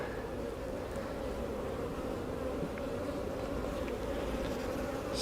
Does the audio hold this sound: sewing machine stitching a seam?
no